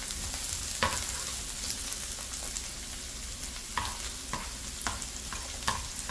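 Vegetables stir-fry in a pan for a Thai basil dish, producing a constant moderate sizzle broken by repeated sharp scrapes and clacks of a utensil every second or so, with no voices.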